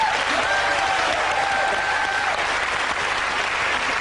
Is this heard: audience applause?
yes